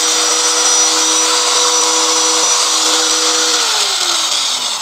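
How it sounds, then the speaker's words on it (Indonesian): Angle grinder powered from a solar power box, running at full speed with a loud, steady high whine close by, its pitch dropping slightly near the end. "kita langsung uji coba untuk gerindanya. Ya, ternyata kencang sekali ya"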